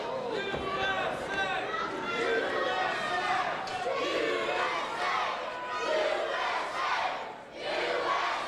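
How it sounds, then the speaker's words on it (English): A large crowd at a live wrestling match chants in rhythmic, swelling waves, loud and dense, with scattered shouts and cheering mixed through the roar. "The crowd is chanting USA"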